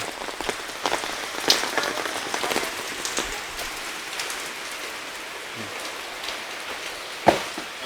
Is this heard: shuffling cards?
no